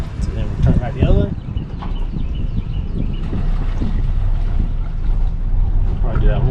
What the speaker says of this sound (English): So go ahead and turn the motor all the way and then put it in reverse